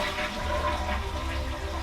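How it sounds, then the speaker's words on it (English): A toilet flushes with a loud, continuous rush of gushing and swirling water, sustained and close throughout with no voices. "Put it in the toilet. Flush it."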